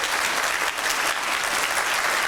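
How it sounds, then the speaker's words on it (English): Warm, full applause from a seated audience at a public talk, a loud and continuous clatter of many hands throughout the short stretch. "For Mr. Kishore Mahbubani, can we have a round of applause that he's here with us today?"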